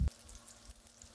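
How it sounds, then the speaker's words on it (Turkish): Dough frying in hot oil on a stovetop burner set a bit above medium heat, a faint, continuous crackling sizzle with small pops, opening with a brief thump. "Ben dörtlü ocağımın en büyüğünün orta ateşinden biraz yüksekte kızarttım."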